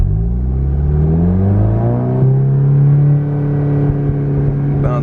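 A car engine on launch control rises steadily in pitch, then holds a loud, steady high-rpm drone near 4,200 rpm, close and alone.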